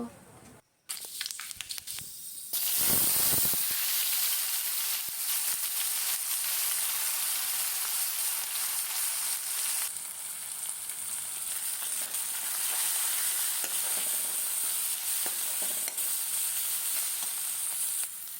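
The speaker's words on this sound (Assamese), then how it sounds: "এয়া পিঁয়াজ, নহৰু, আদা আৰু জলকীয়া ভাজি লৈছোঁ।" Loud, steady sizzling of onion, garlic, ginger and chili frying in hot oil, a dense hiss running almost continuously, with brief quieter gaps near the start and occasional stirring.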